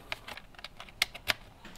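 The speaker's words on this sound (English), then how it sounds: "Let's plug a USB keyboard into the side and actually see if it works." Keys tapped on a USB computer keyboard plugged into the side of a gaming laptop, a handful of sharp, irregular clicks with two louder strikes, fairly close and clear with no talking.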